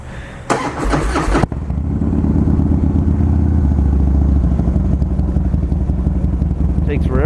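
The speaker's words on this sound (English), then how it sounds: "That's a cold start too" A 2006 Harley-Davidson Softail Deuce V-twin settles into a loud, lumpy idle right after a cold start, its rhythmic throb close and steady following a brief clatter of starting.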